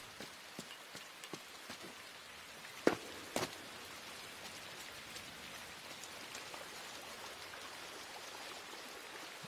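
Heavy rain pours steadily in the dark game world of INSIDE, a dense even hiss with scattered drips and a couple of sharper knocks near the middle, with no voices over it.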